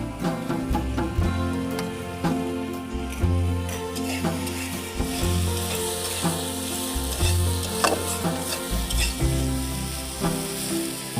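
Spice masala sautéing with fried onions in a pan, a continuous loud sizzle and frying hiss with steady stirring scrapes throughout, no voices.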